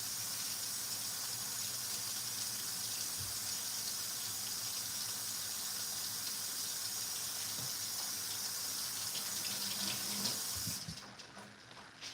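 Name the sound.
tap water running while rinsing rice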